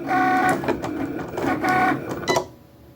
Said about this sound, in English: So I'm writing out the name on the Cricut.